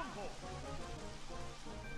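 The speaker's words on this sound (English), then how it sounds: "I'm gonna set up the Rain Dance real quick." Rain Dance rain effect in the Pokémon Stadium 2 video game, a steady hissing patter of synthetic rainfall running continuously and evenly at moderate volume, with game sounds mixed underneath.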